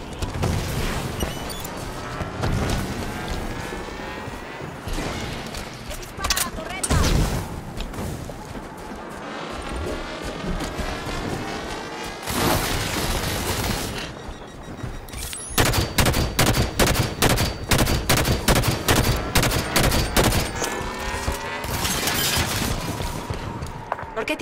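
Rapid automatic gunfire and sharp impacts from a Halo 5: Guardians firefight, loud and near, with bursts and shattering hits throughout and a dense stretch of fast repeated shots late on, alongside voices.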